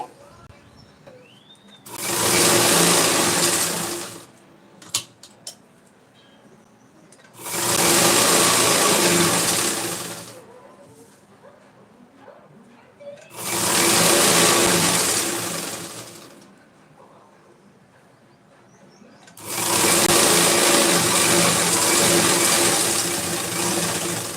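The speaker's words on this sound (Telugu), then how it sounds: "చుట్టూ ఇలా ఒక ఇంచు కుట్టుకోవాలి" A sewing machine stitches around a saree petticoat in four long runs of steady mechanical whirring, separated by short pauses with faint handling noises.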